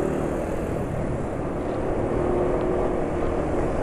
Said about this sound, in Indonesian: Suara mesin asak-asak kayaknya juga berkurang.